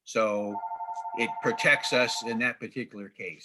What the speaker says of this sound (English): I'm sorry for my phone ringing.